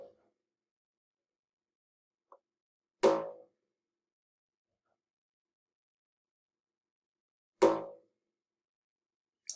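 Rubber band plucked by hand, giving two loud, short twanging boings several seconds apart with faint small plucks between, in an otherwise quiet room.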